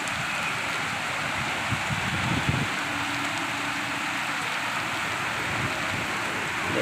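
Heavy rain falling outdoors during a thunderstorm near hills, a dense, steady wash of drops with a low rumble underneath, continuous with no talking.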